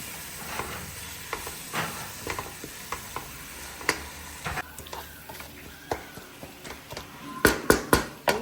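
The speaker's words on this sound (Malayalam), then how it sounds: "ഇതിലേക്ക് കുറച്ച് കുരുമുളക് ഇത് നന്നായിട്ട് മിക്സ് ചെയ്ത് കൊടുക്കാം" A spoon stirs ground pepper into kappa biryani, a tapioca and chicken dish, in a pan, with scattered scrapes and taps over a faint sizzle, ending in a few louder knocks against the pan.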